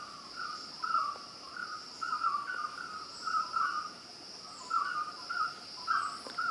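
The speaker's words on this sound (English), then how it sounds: "Can you hear the birds in the background?" A high, steady insect-like drone runs under repeated chirping calls from birds in a dense hillside forest on a trek, with evenly spaced bursts that carry moderately loud across the whole stretch.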